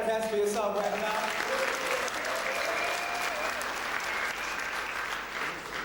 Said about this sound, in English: So Bulawayo, clap hands for yourself right now.